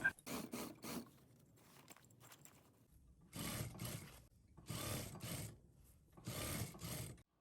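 A sewing machine stitches a seam on a down jacket in three separate runs of about a second each, loud and close, with quieter handling sounds before them.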